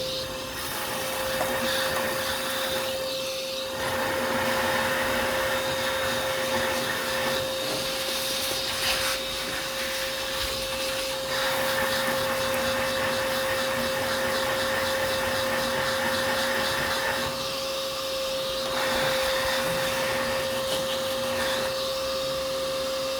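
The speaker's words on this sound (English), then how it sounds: "let's give this a vacuum cleaner a go" A vacuum cleaner runs loudly and continuously, close up, with a steady high whine and slight shifts in pitch as it moves.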